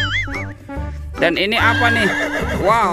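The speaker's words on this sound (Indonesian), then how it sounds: "yang ini kuda zebra" A toy zebra sounds off with a loud, quavering horse neigh and whinny, a trembling cry that falls away over a couple of seconds, preceded and partly overlapped by an excited speaking voice.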